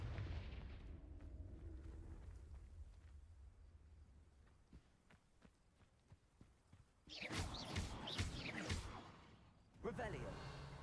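An explosive Confringo spell blast in Hogwarts Legacy, a sudden booming burst with crackling debris that rings on for about two seconds, followed by a second shorter burst, amid game ambience.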